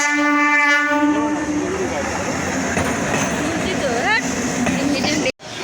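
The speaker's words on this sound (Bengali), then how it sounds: "কি ট্রেন হ্যাঁ?" A passing train sounds a long, loud horn at the start, then its wagons roll by in a steady, close rumble with faint rail clatter; a voice briefly comes through near the end.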